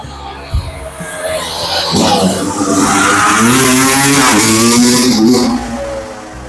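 A motorcycle engine revs up hard and holds a rising, droning pitch for several seconds before easing off, loud and close, on a street in Junín, Buenos Aires Province.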